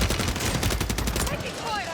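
Rapid video game gunfire crackles in fast automatic bursts for over a second, then fades as a voice speaks briefly.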